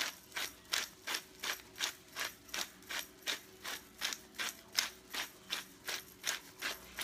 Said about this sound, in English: I'm going to put some cracked pepper.